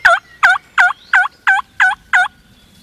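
A wild turkey tom gobbles seven times in a steady rhythm, each call a loud, rattling burst with short gaps between, close and clear, heard during a hunt.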